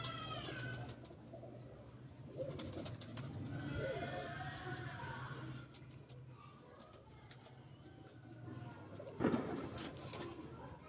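Pure-condition fancy pigeons coo repeatedly in a loft, low rolling calls close by over a constant background hum, with a brief louder clatter near the end.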